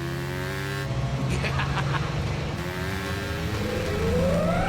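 A cartoon vehicle accelerates hard, its engine revving upward with a rising whine near the end, loud and continuous over a busy action-scene backdrop.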